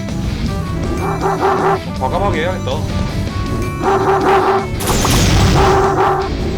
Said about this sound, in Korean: 강아지 소리 어디서 나는 거야 도대체?